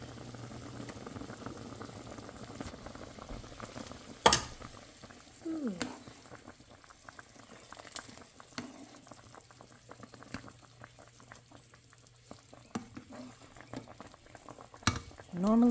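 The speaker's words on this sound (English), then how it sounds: "All right, the soup is boiling." A pot of homemade soup bubbles at a boil, a soft continuous burble with occasional clinks and knocks in a quiet kitchen.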